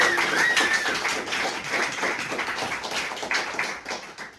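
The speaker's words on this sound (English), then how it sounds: "can we have a big round of applause for Mr. Tim Searle?" Applause from an audience at a London animation club evening, a dense patter of clapping that starts loud and gradually thins and fades over several seconds, with no talk over it.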